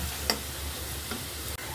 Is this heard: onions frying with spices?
yes